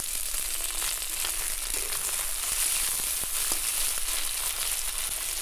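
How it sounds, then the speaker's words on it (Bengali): Chopped tomato hits onion and chili already fried in a pan for a lote fish dish, giving a steady, close, even sizzle of frying that runs throughout with no talk. "এখানে পেঁয়াজ লঙ্কা ভালো করে ভেজে নিয়েছি, দিয়ে দিচ্ছি কেটে রাখা টমেটো।"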